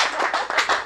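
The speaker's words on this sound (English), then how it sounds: "No, no, clap for this voice." A few close, sharp claps ring out in a quick uneven rhythm at an outdoor broadcast gathering, brief and fairly loud.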